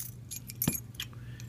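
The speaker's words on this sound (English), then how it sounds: "Got the keys and everything." A ring of keys for a rekeyed Corbin mortise lock cylinder jangles briefly up close, a few quick metallic clinks over a low steady hum.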